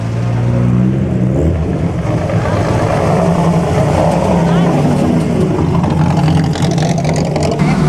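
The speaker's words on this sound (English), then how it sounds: "Lancia Aurelia." A classic Lancia Aurelia passes at the Mille Miglia, a steady loud engine drone with crowd noise and someone talking over it.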